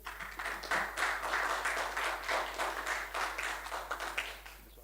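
Audience applause fills a formal lecture hall after a public inaugural lecture, a steady crowd of hands clapping for several seconds, moderately loud and even, with no talk over it.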